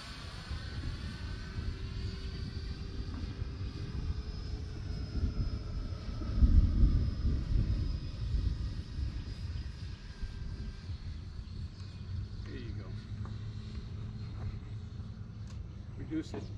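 E-Flite F-16 radio-controlled model jet flying, its continuous whining engine drone holding steady for the whole stretch and swelling briefly in the middle, heard alongside outdoor wind noise.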